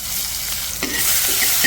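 Chopped tomatoes dropped into hot oil in a pan, giving a steady close sizzle with a sharp burst of frying noise partway through and faint stirring scrapes, no talking.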